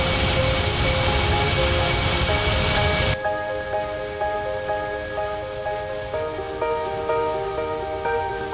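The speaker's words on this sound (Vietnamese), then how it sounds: "Chiếc Boeing khổng lồ tạo ra tiếng động cơ nổ ầm ầm trên đường băng" Steady roar of a giant Boeing airliner's jet engines on the runway during takeoff, loud and continuous, with background music playing over it.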